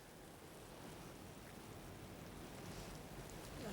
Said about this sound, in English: The rain. Listen.